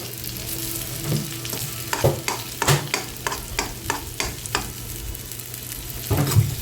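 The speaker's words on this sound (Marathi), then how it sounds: "हा जो शिल्लक राहिलेला मसाला आहे तोही तेलामध्ये घालून आपण परतून घ्यायचा व्यवस्थित" Stuffed bitter gourd and leftover masala fry in oil while a spoon stirs and scrapes the pan in repeated rhythmic strokes over a constant close sizzle, with no talking.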